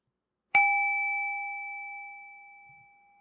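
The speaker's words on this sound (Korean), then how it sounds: "금빛 종소리 한 번 더 들으셨고요" A single golden bell chime rings out once, a clear bright strike that sustains and fades slowly into silence.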